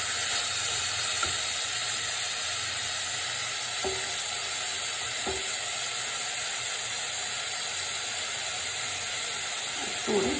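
Beetroot kichadi with curd just poured in sizzles steadily in a pan, a continuous close hiss with a few faint stirring scrapes and no talking.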